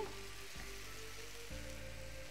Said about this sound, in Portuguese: Aí a gente deixa refogando mais um pouquinho.